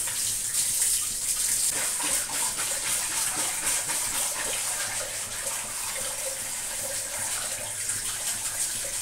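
Tap water gushes steadily under a kitchen faucet while leafy vegetables are rinsed, a continuous close, bright splashing stream with no break.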